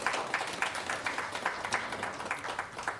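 Steady applause from an audience at a university panel on freedom of speech, dense clapping held at an even level throughout, welcoming a speaker to the stage.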